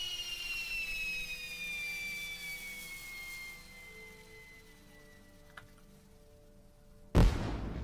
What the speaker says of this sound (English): What have we got here? Dragon fireworks.